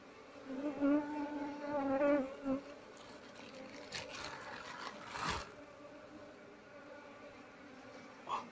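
Apis cerana honey bees buzz and whine close by during a honey harvest as comb is cut, several loud buzzing passes in the first seconds, then a fainter hum with scattered rustling.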